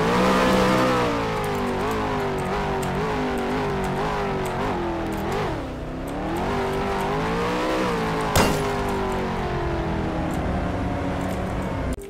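A V8 car with a big single turbo in a Roblox taxi game revs loudly and steadily, its engine tone rising and dipping through several gear changes, with one sharp click partway through and no talking.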